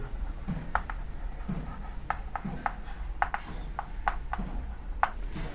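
A pen scratches out a maths answer on paper, with short bursts of strokes and small taps at an uneven rhythm, close and moderately quiet with no talking.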